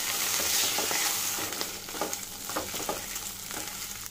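Boiled, peeled and chopped potato with curry leaves being stirred in a hot pan for sabudana khichdi, a steady sizzle with scraping spoon strokes throughout, close and alone.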